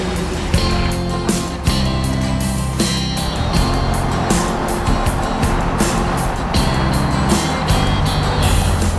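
A car engine rumbles loudly and steadily as the vehicle pulls away, with clattering and rattling noise layered over the drone.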